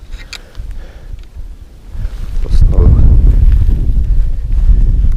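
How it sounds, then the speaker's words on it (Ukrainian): Gusty, frosty spring wind buffeting the microphone while jig fishing for perch on the Psel river, low rumbling blasts growing stronger midway, with someone speaking briefly at the start. "А сьогодні морозець і такий противнючий вітер"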